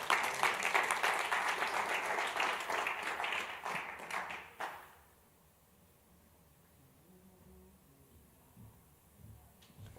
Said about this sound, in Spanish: Le da un aplauso fuerte al Señor